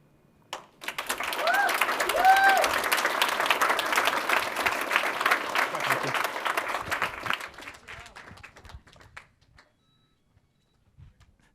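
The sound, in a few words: audience applause after pitches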